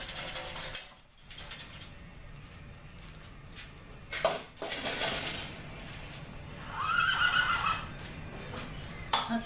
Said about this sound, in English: he was whinnying up pretty good